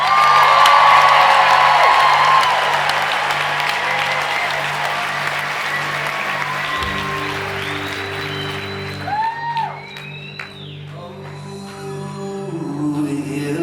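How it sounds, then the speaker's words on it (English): A concert crowd applauding and cheering for a band, loud and sustained at first, then fading as instruments start up and a voice begins singing. "can you just make one more round of applause for this incredible band?"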